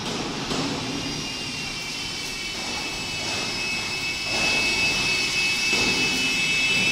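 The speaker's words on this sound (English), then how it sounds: "This is a band type spiral tubeformer." A Preda band type spiral tubeformer runs on a factory floor, producing a loud continuous roaring machine drone with a high steady whine and faint rhythmic thumps that grows slightly louder.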